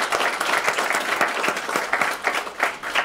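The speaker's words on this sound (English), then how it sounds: "let's start off with another round of applause for them" Audience at a school fifth-grade spelling bee claps steadily for about three seconds, a dense, lively patter of many hands at moderate loudness with no voices over it.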